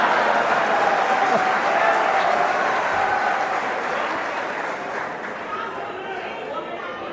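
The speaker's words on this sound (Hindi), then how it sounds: "मैं समझ नहीं पा रहा हूं ये तालियां रोकने के लिए है या" Dense applause fills a crowded BJP rally in Sirsa, a continuous wash of clapping with some crowd chatter that gradually eases and thins toward the end.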